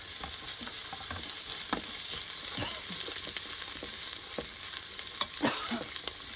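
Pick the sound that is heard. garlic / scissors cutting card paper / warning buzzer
garlic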